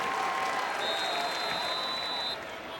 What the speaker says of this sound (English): Student section down there applauding for Carter